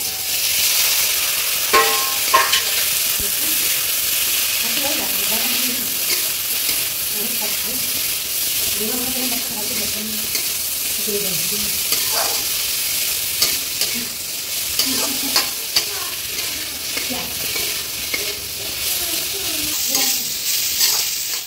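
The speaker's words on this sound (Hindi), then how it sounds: "घी जब गर्म हो गया था तो इसमें हमने डाल दिए है जीरा" Cumin and ground spices with salt and turmeric fry in hot ghee, giving a loud continuous sizzle and hiss with occasional stirring scrapes and clinks, and no voices over it.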